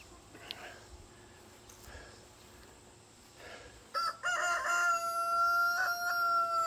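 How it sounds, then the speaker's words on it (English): A rooster crows one long drawn-out cock-a-doodle-doo near the end, loud and close, after a stretch of faint backyard ambience with quiet clucking. "he's got such a long crow when he wants to."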